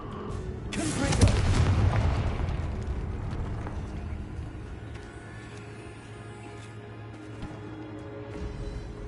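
Confringo fire spell in Hogwarts Legacy bursts with a booming explosion followed by a decaying rumble and crackle, then fades into low ambient game sound.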